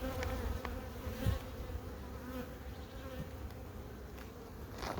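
A honeybee swarm buzzing steadily at the hive, a dense, continuous drone close by with a few individual bees passing near.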